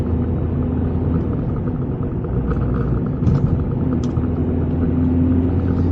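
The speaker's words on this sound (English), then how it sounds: "The induction noise on this, I don't know why, is louder than all my other cars." A steady low engine drone and intake roar from inside a moving Ford Cortina Mk3 with a 5-speed gearbox, constant and fairly loud, with faint rattles over it.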